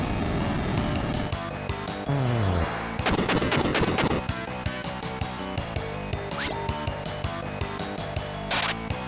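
Bomb explosions in the SNES game Final Fantasy: Mystic Quest, set in a wintry cave: a series of sharp retro blasts and crackling bursts, loud and close, among chiptune battle effects and sweeps.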